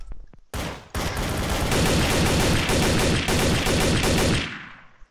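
A few sharp single gunshots in a Trouble in Terrorist Town match give way to a long, loud burst of rapid automatic fire, close and dominant with no talking over it.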